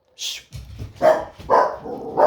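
Several loud, close dog barks in a row, with short pauses between them.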